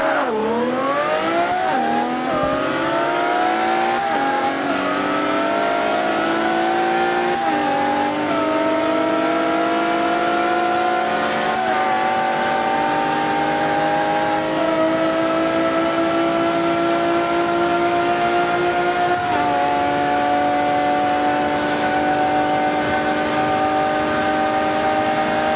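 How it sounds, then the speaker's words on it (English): Two engines roaring through a full-mile drag race in Forza 5, a 2011 Aston Martin V12 Zagato against a 2010 Lexus LFA, loud sustained high-revving wail climbing in pitch with several gear-shift drops, steady and close throughout. "On the left, you will hear into the 2011 Aston Martin V12 Zagato. And on the right, you will hear into the 2010 Lexus LFA."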